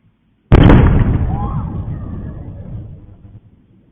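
After a moment of near silence, a single loud explosion in Rostov-on-Don bursts out abruptly, then rumbles and slowly fades over several seconds.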